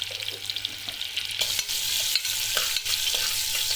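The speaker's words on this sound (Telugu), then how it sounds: "ఆనియన్స్ వేసుకోవాలండి ఆనియన్ బాగా కలర్ వచ్చే వరకు కొంచెం బాగా వేసుకోవాలండి" Onions frying in a pan for a potato and eggplant curry, a steady close sizzle with a few soft stirring scrapes.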